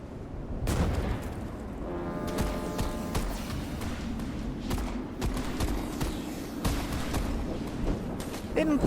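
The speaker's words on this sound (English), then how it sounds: "What if I throw a grenade?" A grenade blast in a shooter video game, a burst of booming impacts amid steady gunfire and game noise, loud and close, with a voice talking over parts of it.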